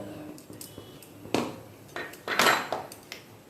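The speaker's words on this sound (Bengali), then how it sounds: "ম্যারিনেট করা মাংস কিন্তু আমি দিয়ে দিলাম।" Marinated chicken being tipped into a cooking pot of oil and browned onions, with a series of metallic clanks and scrapes of a utensil against the pot, louder near the end.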